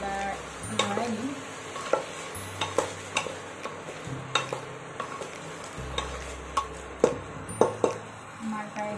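Chicken biryani with potatoes stirred in a pressure cooker after coriander leaves go in, with repeated sharp spoon knocks and scrapes over a soft simmering sizzle.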